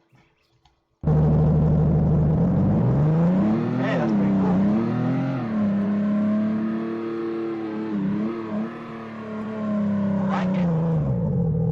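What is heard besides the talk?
car driving and revving in a Roblox game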